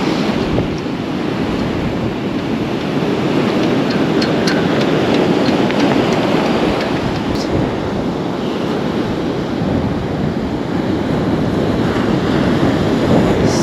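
Strong wind roars across the microphone while surf crashes and rumbles steadily along the shore, loud and continuous with no voices.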